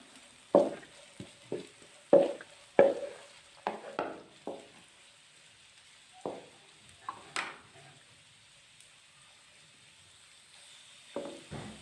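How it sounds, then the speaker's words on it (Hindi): Carrot and shredded cabbage being stir-fried in a pan over medium heat, heard as a series of short sizzling bursts and scraping stirs, fairly quiet with pauses between strokes. "और साथ ही हम इसके अंदर बंद गोभी ऐड कर देंगे। इसको हम अच्छे से फ्राई करेंगे।"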